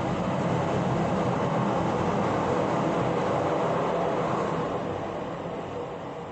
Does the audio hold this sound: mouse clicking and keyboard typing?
no